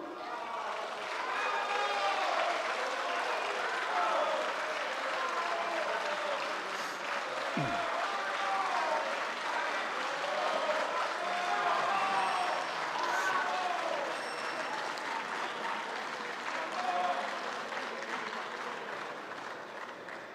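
Sustained applause fills the Italian Senate chamber, a dense, even wash of many hands clapping that holds steady for about twenty seconds without letting up.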